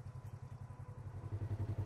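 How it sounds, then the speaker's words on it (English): Polaris RZR XP 1000 side-by-side driven slowly onto a trailer, a faint, steady low engine pulse with rhythmic throbbing that swells slightly toward the end, no talking. "Next, safely drive your vehicle onto the trailer."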